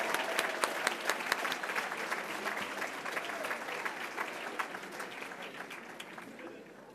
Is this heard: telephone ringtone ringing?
no